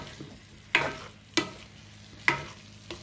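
Seasoned beef tips cooking in a pan at home, with four sharp scraping, stirring strokes over a faint background sizzle, the second and fourth softer, and no talking.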